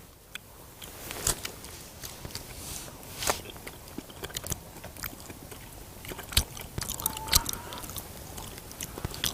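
Close, quiet chewing and crunchy bites of raw goose meat dipped in sesame oil sauce, with irregular moist smacks and soft chomps repeating over a faint background.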